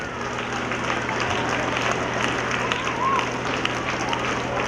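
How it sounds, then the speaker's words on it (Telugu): A hall full of schoolchildren claps hard and continuously at a school gathering, a thick, even wash of applause that holds at the same level throughout, with some voices blending in. "మీకోసం మీరు గట్టిగా క్లాప్స్ కొట్టండి"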